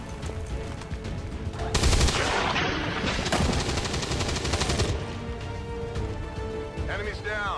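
Rapid automatic gunfire bursts from the XCOM 2 video game, loud and sustained for several seconds, with voices talking over the combat.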